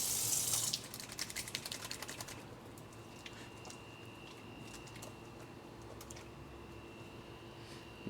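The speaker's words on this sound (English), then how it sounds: "I'm gonna wash my hands real quick, or rinse them at least" Tap water runs over rinsing hands at a sink, a steady close stream with a burst of sharper splashing at the start, then a soft continuous flow with faint clicks.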